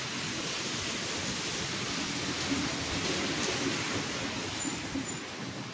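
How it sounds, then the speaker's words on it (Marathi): Heavy rain pours down as the sky turns dark with clouds, a dense, steady roaring hiss that fills the scene without pause, close and continuous with no voices. "परत जोरदार पाऊस सुरू झाला."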